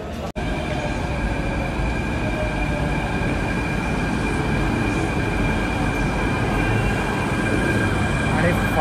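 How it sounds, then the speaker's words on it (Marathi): A metro train pulls into a Mumbai station on the Versova line, its steady rumble and wheel noise filling the whole stretch after a sharp onset, with faint tonal hums riding over the roar. "आणि फायनली मेट्रो आले."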